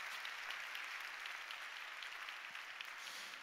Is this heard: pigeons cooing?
no